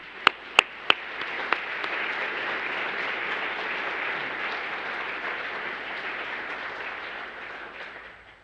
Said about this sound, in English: Let me join me in applauding Mike